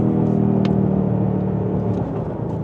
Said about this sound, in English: A naturally aspirated V8 in 2024.